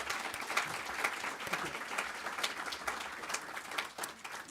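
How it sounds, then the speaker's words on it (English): Audience members at a live well-being and sustainability event applaud team members, a moderately loud, continuous patter of many hands clapping with slight swells, heard on its own without voices. "So a round of applause for those INP team members."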